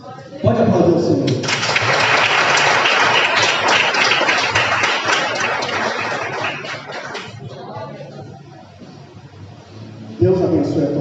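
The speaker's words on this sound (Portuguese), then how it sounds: "Pode aplaudir o Senhor." A church congregation breaks into loud, sustained applause after a prayer ends in amen, a dense roar of clapping that swells for several seconds, then fades as a voice resumes.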